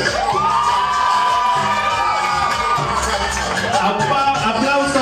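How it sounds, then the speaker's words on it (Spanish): A crowd at a cumbia and guaracha dance contest in Brooklyn, New York cheers and shouts loudly and steadily, with whoops and high voices over a dense wash of noise that never lets up. "¡Aplauso para la otra pareja!"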